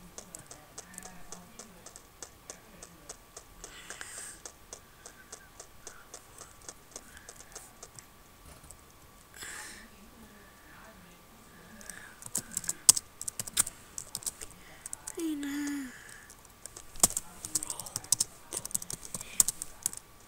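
Quick, quiet clatter of keys being typed on a computer keyboard, irregular bursts of taps that grow busier and louder toward the end, with no talking.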